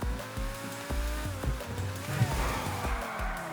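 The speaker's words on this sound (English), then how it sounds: "So let's drive the vehicle." A car is driven in the FiveM mod of GTA V, its engine revving up and down through repeated gear shifts with tire noise, loud and close, with no talking.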